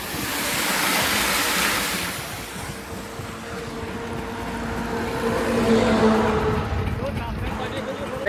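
Borewell water gushes steadily into a tank beside a humming pump, a constant rushing flow with people talking nearby.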